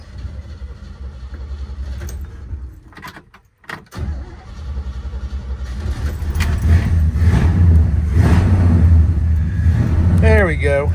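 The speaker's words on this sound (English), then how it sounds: "So we'll get the thing started up here." Carbureted 1967 Pontiac GTO with a four-speed manual: keys rattle before the engine cranks briefly, catches and settles into a loud, rough, steady idle close by.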